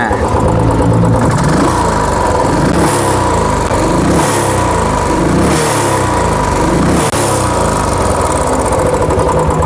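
A 2020 Royal Enfield Bullet Classic 500 motorcycle runs loud and close, its single-cylinder engine thumping steadily at idle with a few slight swells in revs throughout.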